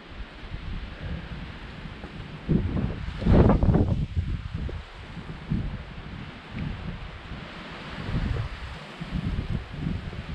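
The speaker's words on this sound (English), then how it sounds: "it's really windy" Strong gusting wind on a mountain trail along the Appalachian Trail near Saddleback, roaring and buffeting the microphone in broad surges, with a loud blast around the middle and steady rustle between gusts.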